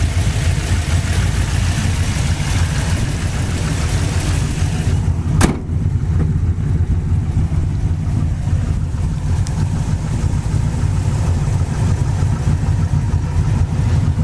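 A 1968 Ford Mustang V8 with a performance carburetor, Edelbrock Performer RPM intake and MSD ignition runs at a steady idle, a deep continuous rumble close by, with one sharp click partway through.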